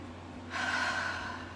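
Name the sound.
deep breathing during a guided tapping exercise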